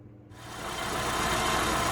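A tuned car engine starts up and settles into a steady, loud idle with a rough, even rumble after a brief quiet moment.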